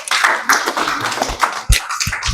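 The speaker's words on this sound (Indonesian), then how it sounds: "Kita berikan aplaus dulu." Audience applause at a civil-service technical training session in Tarakan Utara, a short burst of scattered hand claps and taps filling the room, fairly loud and dense, with no voices over it.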